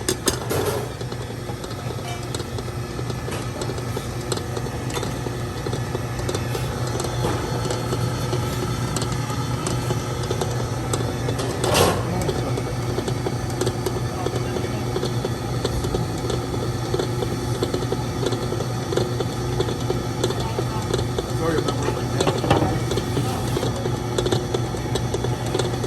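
A stand mixer runs with a steady motor hum and constant low drone throughout, mixing eggs and vanilla for sugar cookies, accompanied by faint rattling and clicking, with no talking.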